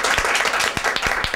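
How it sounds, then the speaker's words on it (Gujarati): An audience at a Gujarati ladies' kitty party game show claps for a round winner, a dense burst of applause with sharp individual claps standing out, loud and continuous. "જોરદાર તાળીઓ."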